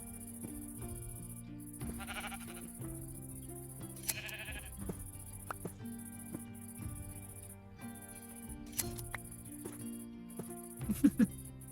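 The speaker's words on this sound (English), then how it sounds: "Sheep." Minecraft sheep give a few short bleats over game background music, with faint clicks and in-game sounds mixed in.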